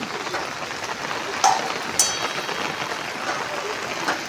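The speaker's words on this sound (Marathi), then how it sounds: "आता जोरदार चालू आहे" Steady hiss of heavy monsoon rain falling hard in a village, a constant wash with a couple of brief sharper taps, no voices.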